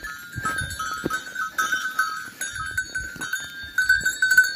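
Livestock bells clanking and ringing in irregular bursts while sheep graze nearby in a foggy Turkish village, with occasional soft bleats and rustling underneath.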